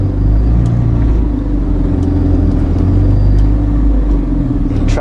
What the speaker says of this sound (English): Traffic up here is usually really bad, and it is no different today.